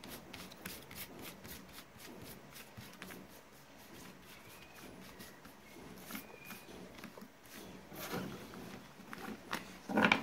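Tarot cards shuffled by hand with a steady soft riffling and rustling, close and fairly quiet, continuing for several seconds with no talk.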